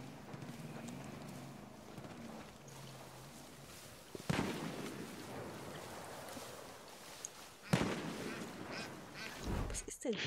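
Ducks quacking in the video game Far Cry New Dawn amid ambient outdoor game sounds, faint calls mixed with sharper thumps and splashes, fairly distant and quiet.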